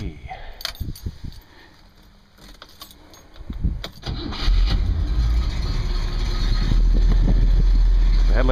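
A 1960 Cadillac Coupe Deville is started after keys jangle, its engine catching and settling into a loud, steady low idle close by.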